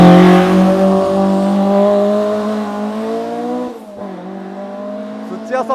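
AE86, S2000 and Z34 race cars launch from a standing start at a touge-style battle, engines revving hard and loud, then fading into the distance, with people talking over them.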